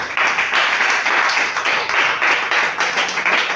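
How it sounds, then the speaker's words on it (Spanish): A church congregation at a Spanish-language service claps loudly and continuously, a thick wash of many hands with a slightly rhythmic pulse, close and full. "¿Puedo dar un aplauso al Señor, hermano?"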